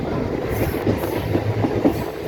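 A train rumbles steadily along the rails with a soft, rhythmic clickety-clack of wheels, continuous and moderately loud.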